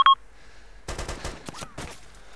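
Gunfire in the Arma 2 video game, a quick burst of rapid shots followed by scattered reports and a short rising whine, fairly close, no speech.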